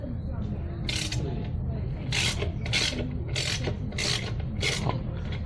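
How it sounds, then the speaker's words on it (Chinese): A wheelchair footrest adjustment screw is loosened by hand, producing repeated bursts of rasping, ratchet-like turning that come in a steady rhythm over a constant low background hum. "它的调整螺丝在这里。 好，那一样的，我们把它松开。"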